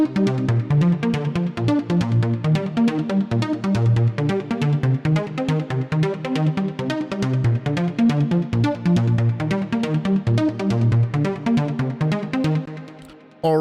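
Chord progression played with smooth voice leading, its lowest voice lifted an octave, ringing continuously in even, sustained chords at moderate volume with no talking, then stopping abruptly at the end.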